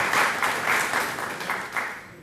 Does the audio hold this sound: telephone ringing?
no